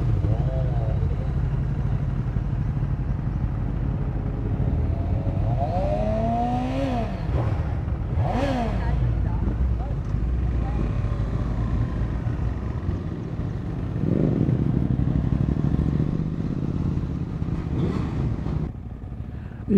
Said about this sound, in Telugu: సౌండ్ మామూలుగా ఉండదు నిజంగా సూపర్ బైక్స్.